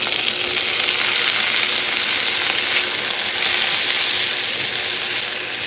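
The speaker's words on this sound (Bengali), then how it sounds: "এবার আমি চিকেনটা দিয়ে দেবো।" Chicken sizzles loudly with browned onions in a wok, a dense unbroken frying hiss heard up close, with faint stirring and no one speaking.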